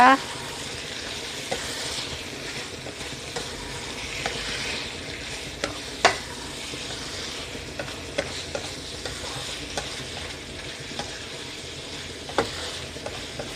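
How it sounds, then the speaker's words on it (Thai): Cabbage and canned fish stir-fry in a hot pan with a constant close sizzle and repeated clanks and scrapes of a spatula against the pan. "ผัดให้มันเข้ากันกับปลากระป๋องนะคะ"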